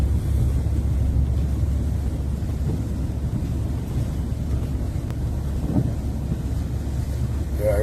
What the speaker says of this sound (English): This is where he's driving through the water